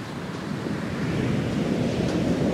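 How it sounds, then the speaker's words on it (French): Ocean surf rolling onto a smoothed sandy beach at Cambaie, a broad continuous wash of breaking waves that swells slightly louder over time, with some wind buffeting the microphone. "les vagues sont assez régulières et nombreuses et des fois d'une puissance assez jolie à regarder"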